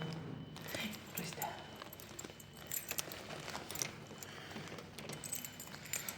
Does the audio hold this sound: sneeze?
no